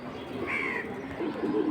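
A light-coloured pair of Beji breed pigeons gives soft cooing with a brief higher chirp, close by, against a low murmur of background noise.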